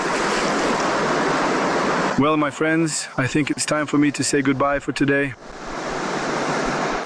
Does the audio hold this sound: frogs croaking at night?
no